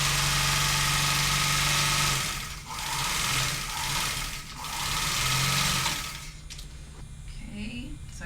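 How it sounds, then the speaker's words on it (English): A sewing machine stitches along the bottom of a fabric shopping bag in three steady whirring runs with brief pauses between them, close and fairly quiet, followed by a softer stretch of handling noise. "now I'm going to take my piece of fabric and I am going to sew along the bottom and the side that is not the fold"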